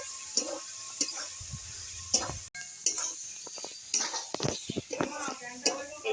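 Ash gourd curry with coconut and sugar being stirred in a pan, with close, irregular scrapes and clinks of a utensil against the metal and a soft sizzle.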